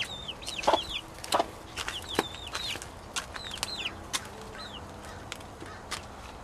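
Backyard chickens cluck and call in short rising notes, several birds at moderate distance over steady outdoor background noise, with scattered sharper squawks and taps.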